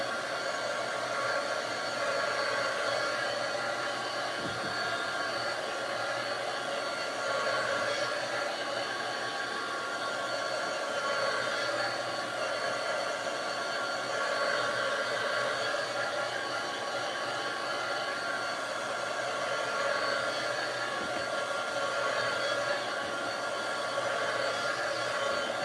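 A hair dryer runs steadily for the whole stretch, drying paint on a craft piece with a constant close whooshing hum that never changes pitch, and no one speaks.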